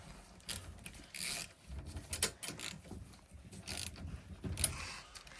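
Bolts on a moped cylinder head are tightened with a ratcheting wrench, giving quick clicking ratchet bursts and faint metallic clinks in a quiet workshop, with no talking.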